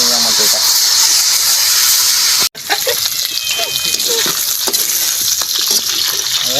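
Pork sizzles and fries in its own rendered fat in a hot pan, a loud steady hiss with crackling spits and a brief interruption partway through.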